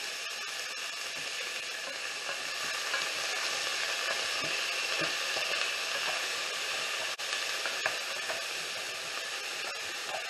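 Beef tenderloin for Texas chili sears in a hot pan with a loud, continuous hissing sizzle that holds steady throughout, broken only by a few faint clicks.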